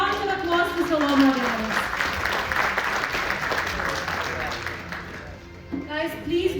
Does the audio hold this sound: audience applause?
yes